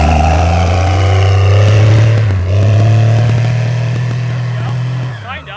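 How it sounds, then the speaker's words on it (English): A first-generation Cummins diesel pickup truck does a burnout on a wet road, its engine roaring loud and close in a sustained, strained drone with wheel spin, then cutting off abruptly at the end. "We're gonna try a burnout real quick."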